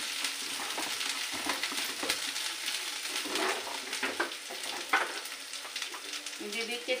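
Ridge gourd and shrimp fry in a pan with a steady, close crackling sizzle and occasional scrapes of stirring, holding a fairly even level throughout.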